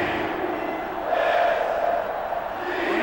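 Sellout crowd at a college football game between Minnesota and Michigan, a broad sustained roar of cheering and noise that swells slightly midway, dense and continuous.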